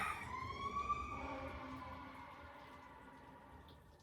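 An ambulance siren wails past at a moderate distance, its tone sliding downward as it moves away and fades.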